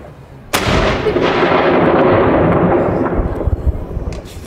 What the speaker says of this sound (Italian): Adesso stiamo aspettando tutti luna che c'è lo scoppio del cannone.